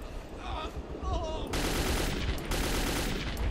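Rapid automatic gunfire in the post-apocalyptic shooter Metro 2033, dense bursts hammering loudly and continuously after a brief lull with faint tonal game sounds, a voice briefly audible underneath.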